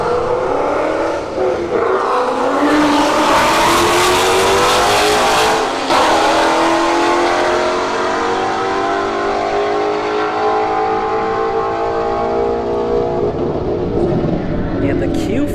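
Mustang S550 and Infiniti Q50 launching side by side in a street drag race at Bradenton Motorsports Park, both engines roaring loudly and climbing in pitch as they accelerate down the strip, with a voice talking over the engines.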